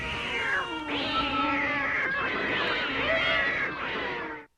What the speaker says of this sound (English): I'm never not amused by that cat fight intro.